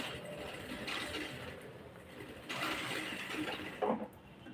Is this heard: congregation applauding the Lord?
no